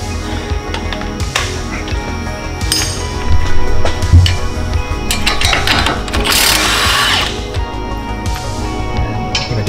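Metallic ratcheting and clinking of a power tool loosening strut-to-spindle nuts on a 2005–2014 Ford Mustang, with bursts of mechanical whirring and clanks, close by and fairly loud.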